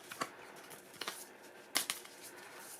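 Playing cards being shuffled by hand during a book-prompt game: faint, brief papery riffles and flicks, a few scattered bursts over quiet room tone.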